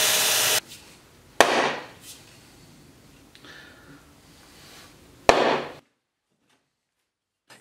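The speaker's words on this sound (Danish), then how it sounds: "her ser man bare slå på en kile, der tydeligvis er sat helt i" A hammer drives a wooden wedge into the eye of an axe handle, giving a few sharp, loud wooden knocks spaced well apart, each with a brief ringing decay, before falling silent.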